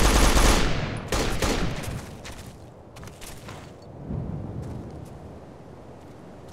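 Sustained automatic machine gun fire from a support gunner in the military shooter Operation Flashpoint: Dragon Rising, loud and close, with dense rapid bursts that ease slightly midway and then continue.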